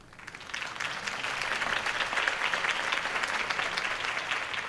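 A crowd applauds steadily after Harvey Dent's campaign speech in Batman: The Telltale Series, a broad even wash of clapping that swells slightly and holds without voices.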